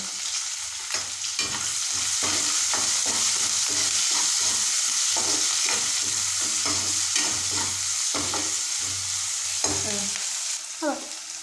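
Panch phoron spices and ginger paste fry and sizzle in hot oil with onion, steady crackle under repeated stirring scrapes of a spoon against the pan, close and fairly loud, no voices.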